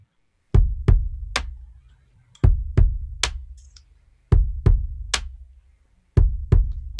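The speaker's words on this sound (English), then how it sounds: "if I remove the backbeat reverb, it sounds like this" Dry drum groove with little reverb: deep kick thumps paired with sharp snare backbeats, repeating in four even bars of about two seconds each, each hit decaying quickly, loud and upfront with no voices.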